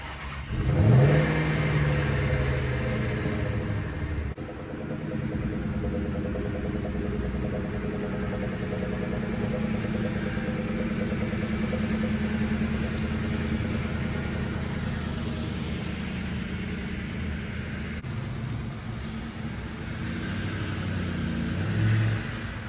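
A high-mileage Mustang Cobra with 444,000 miles and freshly replaced shocks drives at speed, its engine revving up and holding a steady, loud interior drone with tire and road rumble throughout.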